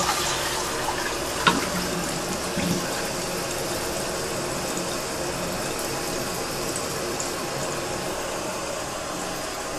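A toilet tank with a newly replaced flush lever and fill mechanism refills after a flush, giving a steady, moderately loud hiss and rush of running water with a couple of brief clunks near the start.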